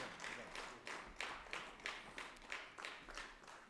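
Applause from an audience at a literary festival's inaugural session, a steady run of many hands clapping at moderate distance, rising and falling in soft waves with no voices over it.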